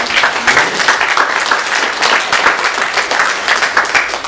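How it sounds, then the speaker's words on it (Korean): A church congregation applauds at a Sunday communion service, a dense, steady wash of clapping from many hands that fills the space without a break for over four seconds, with no one speaking. "영광의 박수를 올려드리겠습니다"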